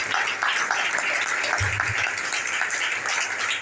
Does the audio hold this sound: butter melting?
no